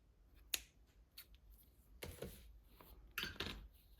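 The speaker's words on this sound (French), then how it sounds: "On coupe le fil" Scissors snip through crochet yarn, a few quiet close crisp cuts with faint handling noise between them and no talk.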